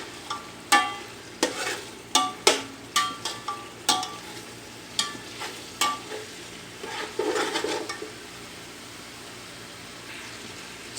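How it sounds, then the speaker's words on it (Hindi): Chicken fries in oil in a pan while a spatula stirs it, giving repeated sharp scraping clacks over a steady sizzling hiss, loud and close, with the strokes slowing toward the end and no speech. "और इसे 2 से 3 मिनट तक भून लूँगी।"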